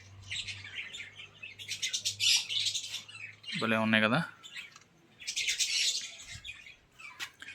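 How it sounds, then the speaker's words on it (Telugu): Parrots squawk in bursts in an enclosure at Kotappakonda zoo park, harsh calls rising at the start and end while someone speaks briefly in the middle. "చిలుకలు చూడండి"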